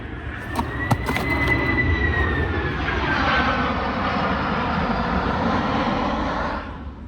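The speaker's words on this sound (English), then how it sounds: "Airplanes landing like a mofo around here." A jet aircraft coming in to land roars overhead with a descending whine over a steady low rumble, fairly loud and sustained, fading slightly at the end.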